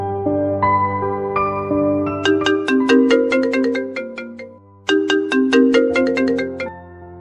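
A phone ringtone plays a bright, repeating melodic pattern in two loud bursts separated by a brief dip, heard clearly with no talking, as a father calls his daughter at home.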